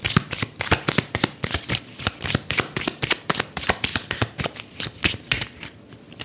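Tarot cards are shuffled by hand in quick, regular riffling bursts, each a crisp papery flutter, close and clear with a steady rhythm and no talking over them.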